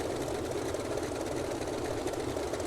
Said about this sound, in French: on remet un petit coup de moteur et voilà, il repart